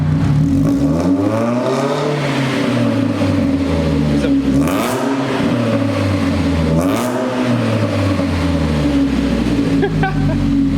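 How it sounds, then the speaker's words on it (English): A Chevrolet Cobalt SS with an LSJ engine and Dynomax Ultra Flow muffler revs loudly toward 4,000 rpm, pitch climbing and falling in repeated swells, with voices talking faintly underneath. "Give me like a 4K rev."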